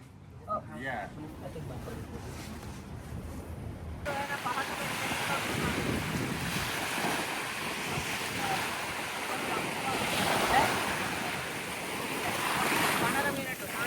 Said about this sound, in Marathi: इकडे पाण्याचे वेव्स किती जोरात येतात.